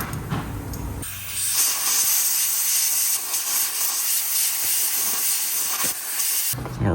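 A loud continuous blast of compressed air blows out a damaged lug bolt hole on a 2026 BMW M3 for about five and a half seconds, with short clicks before and after.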